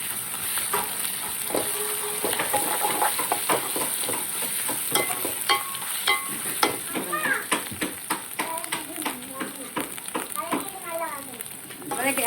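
Garlic and ginger paste being stir-fried in a pan, a soft sizzle with scraping spoon strokes, heard under conversation and children's voices in the background.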